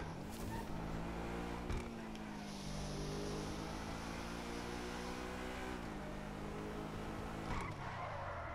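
A sports car drives and skids in a video game, a steady layered engine drone with shifting pitch and long tire-skid hiss, fairly constant in loudness throughout.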